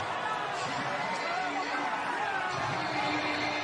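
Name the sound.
baseball stadium crowd cheering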